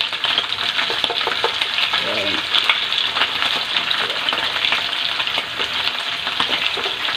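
Flour-coated fish fries in hot oil with a steady, loud, close sizzle and crackle throughout, and a voice speaks faintly beneath it.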